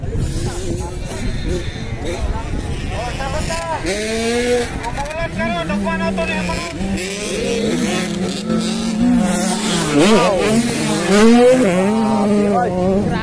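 85cc motocross motorcycles racing at a Maramag, Bukidnon track, with engines revving and rising in pitch, several bikes passing near and loud while a commentator talks over them.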